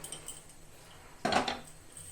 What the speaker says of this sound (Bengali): ভাজার জন্য আমি কড়াই বসিয়ে দিব।